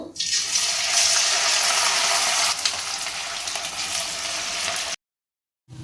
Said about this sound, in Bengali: আমি সীতাভোগগুলো অল্প অল্প করে ভেজে নেব।